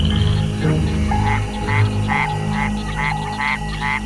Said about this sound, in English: To attract a female, the Mexican white-lipped frog makes a series of chirping sounds.